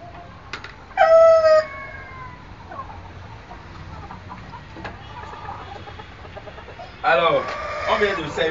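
Goliath chickens clucking and a rooster crowing loudly in a henhouse, with bursts of crowing near the start and again near the end over quieter background clucking and scattered calls, and a voice talking in the mix.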